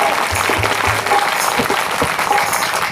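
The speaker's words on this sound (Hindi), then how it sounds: "ताली बता दीजिए भंडारे के लिए।" Audience applause at a Ram katha religious gathering, a dense, steady wash of clapping filling the space at close range, with a few low thumps and a faint voice briefly audible beneath it.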